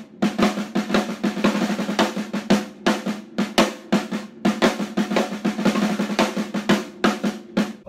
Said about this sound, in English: Swiss Army triplets and some flams,